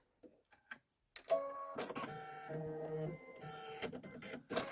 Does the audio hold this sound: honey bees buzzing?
no